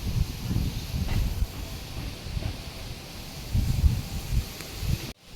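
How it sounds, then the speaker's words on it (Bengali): Gusty, stormy wind blows in uneven surges, a low rushing roar that swells and fades with rustling, close and moderately loud, then cuts off abruptly near the end. "একটা হু হু করে একটা জাস্ট একটা আওয়াজ হচ্ছে, মানে ঝোড়ো হাওয়ার মতন একটা আওয়াজ।"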